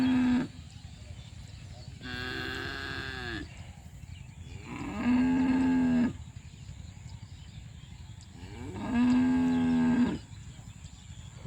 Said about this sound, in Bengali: গরুগুলা বেমাইতেছে